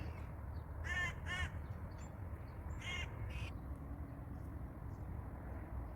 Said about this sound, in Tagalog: Nagpaawit ang ibon.